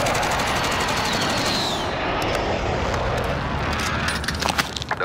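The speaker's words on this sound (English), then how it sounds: "Strike inbound." A jet roars past overhead in a video game airstrike, a loud, close rushing sweep that trails off into a rattling burst of rapid gunfire near the end.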